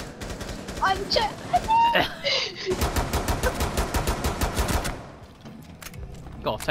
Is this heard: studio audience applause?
no